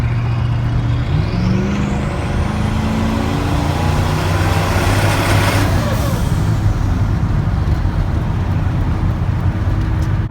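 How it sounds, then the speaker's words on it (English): A loud twin-turbo Chevrolet Silverado pickup with a stock engine accelerates hard nearby, its engine note climbing in pitch through the gears over a steady roar, with no voices. "You can totally tell before the boost kicks in, it's stock."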